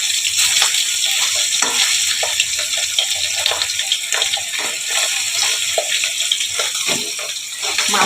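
Hilsa fish fries lightly in a pan with a dense, steady sizzle and crackle, loud and close throughout, with no talking.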